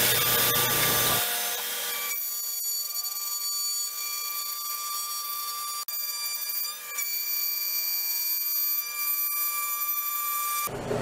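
An X-Carve CNC router fitted with a large bit cuts into wood, giving a steady, loud whine with high tonal overtones that runs almost unbroken and starts after a brief rougher burst.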